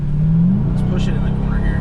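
The engine of a 2021 Dodge Durango Hellcat SUV accelerates with a loud, deep, rising roar heard from inside the cabin, a steady mechanical drone under faint wind noise.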